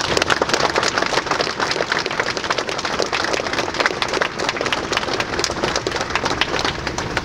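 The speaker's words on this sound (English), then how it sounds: "would everyone please join me one more time in a round of applause?" Outdoor audience at a barracks dedication ceremony for veterans gives a sustained round of applause, dense crackling clapping from many hands holding steady for several seconds without speech.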